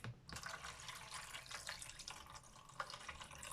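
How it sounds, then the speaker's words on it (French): Tap water runs steadily into a container in a home kitchen while cooking, a continuous soft splashing rush with faint clinks, close but quiet, with no talking. "je mets de l'eau du robinet"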